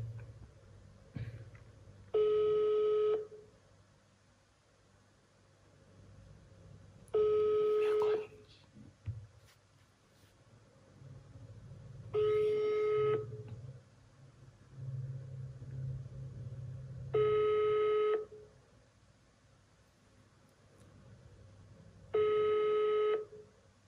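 A mobile phone call rings back in five evenly spaced tones about five seconds apart, clear and close over a low rumble with soft murmurs between rings.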